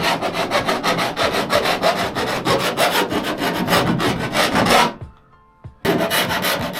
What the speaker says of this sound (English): I'm going to just give this edge a file.